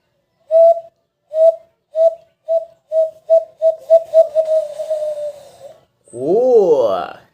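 A man imitates birdsong by whistling through cupped hands: a series of clear, evenly spaced hooting notes that quicken and run together, followed by a rising, warbling trill, loud and close with no talking.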